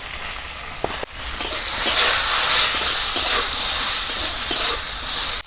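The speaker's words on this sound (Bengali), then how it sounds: "একই তেলে এবার বেগুনগুলোও ভেজে নেব।" Eggplant pieces seasoned with salt and turmeric fry in hot oil in a kadai for shukto, a sharp crackle at the start swelling into a loud, continuous hissing sizzle that holds steady.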